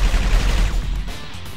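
Rapid burst of energy-weapon fire in Alien Shooter 2, a loud rattling volley of shots for about a second that then trails off into echoing decay.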